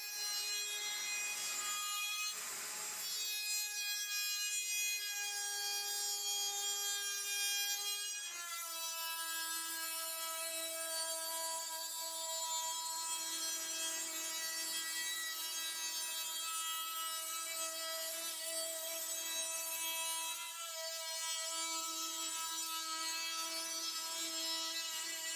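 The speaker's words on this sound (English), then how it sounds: "now we're at the router table, and I've got this top cap that I just ripped, and I'm going to put a 1/2 inch Roman ogee all the way around this" A router table cuts a half-inch Roman ogee profile along a freshly ripped wooden top cap with small knots, a sustained high-pitched motor whine that dips and shifts in pitch as the bit bites into the wood, steady and close.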